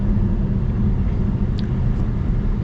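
Steady low road rumble fills the cabin of a 2024 Chevy Malibu while driving, a constant dense drone with no talk over it.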